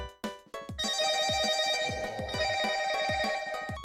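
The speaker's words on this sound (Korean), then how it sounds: "이게 이제 착신음입니다. 전화가 왔을 때 이 소리가 나는 거죠?" Mobile phone incoming-call ringtone on a North Korean smartphone, a bright repeating melodic ring with steady rhythmic pulses, loud and close, playing alone without talk.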